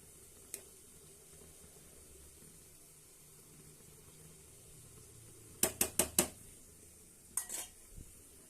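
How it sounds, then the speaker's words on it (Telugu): Mostly quiet, then a rapid burst of four metallic clanks of pots and dishes, followed by a few more clatters. "గిన్నెలైతే కడుగుతున్నా"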